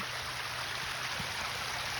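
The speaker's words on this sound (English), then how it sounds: "I want the water to bounce and then flow down just like it's doing" Water pours steadily over rocks in a small pond waterfall and splashes down in an even, continuous rush. It sounds close and moderately loud, with no voices.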